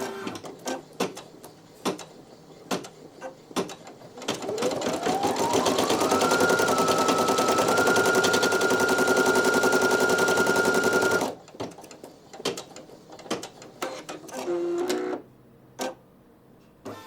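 A Brother PE900 embroidery machine stitches a photo-style design, starting with a rising whir that settles into a loud, steady rapid needle chatter for several seconds before stopping. Scattered clicks and handling sounds come before and after.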